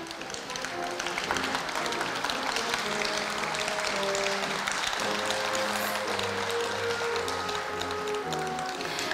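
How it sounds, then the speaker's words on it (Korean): Steady applause from a ceremony audience celebrating Korea University's 113th founding anniversary, a continuous even wash of clapping that holds at the same level throughout, with faint murmuring beneath it. "다시 한번 박수 부탁드립니다."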